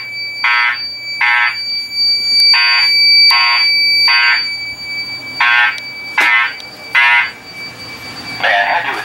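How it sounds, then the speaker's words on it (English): An electronic home fire alarm beeps loudly in repeated pulses during a system test, with a brief noisy burst near the end. "A fire alarm has been reported in the building."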